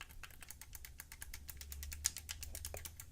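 Clicky face buttons on a Razer Wolverine Tournament controller tapped in a quick, steady run of crisp, close mechanical clicks with no talking.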